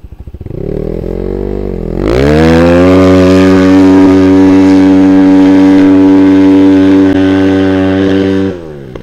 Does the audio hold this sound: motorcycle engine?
yes